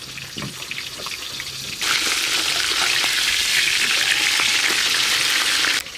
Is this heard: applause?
no